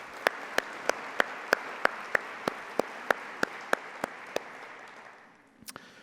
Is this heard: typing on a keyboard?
no